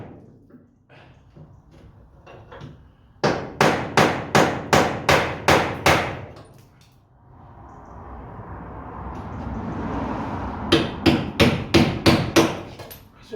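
Sharp, evenly spaced hammer strikes drive a small chisel through a spot weld on a van's front arch and sill area, two loud bursts of about eight blows each separated by a stretch of grinding-like noise.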